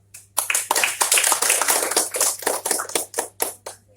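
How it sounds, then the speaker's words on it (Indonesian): A school audience claps hands for a session on positive culture. The claps are sharp and close, starting together, then settling into a quick rhythmic burst before thinning out to a few last claps, with a low steady hum underneath. "Sebelumnya tepuk tangan coba."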